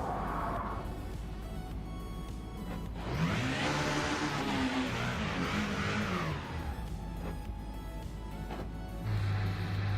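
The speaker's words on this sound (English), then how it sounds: "Yeah, the sound of this car is bad." Engine of a 90s DTM race car in the Rennsport sim racing game, a loud sustained mechanical drone that swells and shifts pitch through a drift, with brief tonal whines over steady background noise and no talk.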